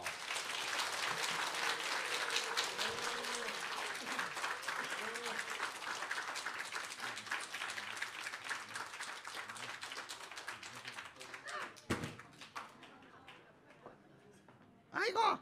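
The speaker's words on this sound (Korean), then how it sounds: "여러분 큰 박수로 맞이해 주세요." Church congregation applauds at length to welcome a ventriloquist's puppet during a Sunday service, steady clapping that fades out over several seconds before a few sharp knocks and a voice near the end.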